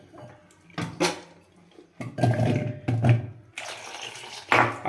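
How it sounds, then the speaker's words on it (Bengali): Mushrooms are rinsed under running tap water in a kitchen sink, with bursts of splashing and spattering water that rise and fall as the pieces are handled, loud and close. "আরেকবার ভালো করে আমি জল দিয়ে ধুয়ে নিচ্ছি।"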